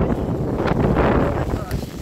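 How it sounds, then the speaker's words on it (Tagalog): Strong gusts of wind during bad weather in Hong Kong buffet the microphone with a rough, fluctuating roar, while a voice can be heard speaking underneath. "Sobrang lakas talaga ng hangin."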